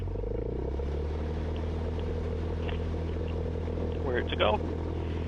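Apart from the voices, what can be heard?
Cessna 172 Skyhawk engine at full throttle for takeoff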